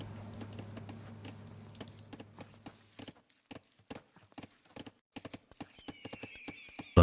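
Hooves of a horse unit in Age of Empires II clop in sparse, irregular steps, fairly faint, over a low game hum that cuts out partway, ending with a sudden sharp louder sound.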